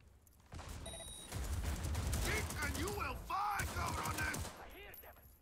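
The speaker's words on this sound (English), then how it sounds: "Automatic fire for every single gun" Automatic gunfire in the video game Cyberpunk 2077, a modded Night City combat scene, with sustained rattling bursts over a few seconds mixed with other game effects and a voice talking over it.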